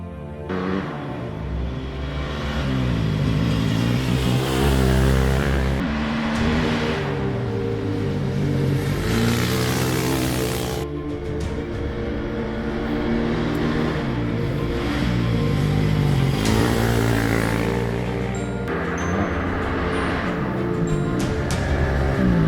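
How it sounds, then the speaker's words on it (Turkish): Rally vehicles at the Transanatolia 2020 rally pass a roadside spot one after another. Engine roars swell and fade in repeated loud sweeps, with a constant rumble between them. "Birazdan göstereceğim yerden de arabalar geçecek."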